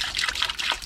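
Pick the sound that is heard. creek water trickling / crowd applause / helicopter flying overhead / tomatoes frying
creek water trickling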